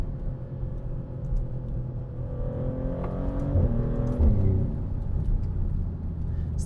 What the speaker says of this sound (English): I can hear a little bit of turbo spool actually.